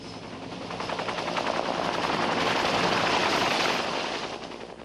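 A loud, steady attack helicopter drone with fast rotor chop, swelling slightly as it passes close overhead, with no voices.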